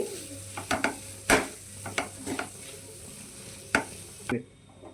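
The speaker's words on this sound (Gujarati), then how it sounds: "એને આપણે થોડો દબાવી દબાવી પ્રેસ કરીને મિક્સ કરી લઈશું" Masala mixture pressed and stirred in a hot pan for masala pav, scraping and tapping strokes at an irregular pace over a steady faint sizzle, without voices, ending abruptly.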